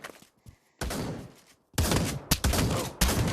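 Loud, close bursts of rapid automatic gunfire from a meme shotgun-sniper build in the VR shooter Pavlov, arriving in several sustained volleys separated by short gaps and sharp isolated shots.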